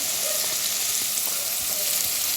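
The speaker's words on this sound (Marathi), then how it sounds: "गाजर थोडं शिजवून घेऊयात." Carrots sizzling in a pan while cooking for veg pulao, giving a steady, fairly loud frying hiss with faint stirring clicks throughout the short stretch.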